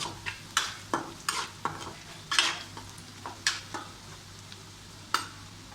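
Spoon stirring a fish curry of local desi fish in a pan after salt and chilli powder, a quiet run of rhythmic scraping strokes over a soft sizzle, close and without voices.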